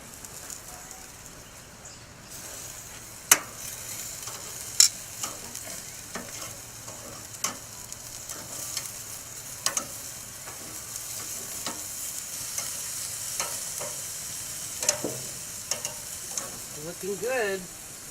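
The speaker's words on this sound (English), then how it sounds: "the wings are cooking" Chicken wings sizzling in a pan, a soft steady frying hiss with occasional sharp pops and scrapes, fairly quiet and close, no speech over it.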